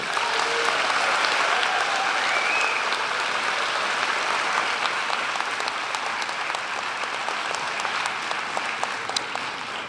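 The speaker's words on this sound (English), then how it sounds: "So if we could have a round of applause for the members of the faculty." Sustained applause from a school audience honoring the Bard High School Early College faculty, a dense steady clatter of many hands filling the room at close range, holding nearly level for the whole stretch without voices.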